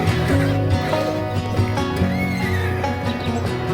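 Horses on the Aloha Trail along Maui's Waihee Valley Rim, a loud whinny rising over steady clip-clopping hooves amid outdoor ambience, with no talking.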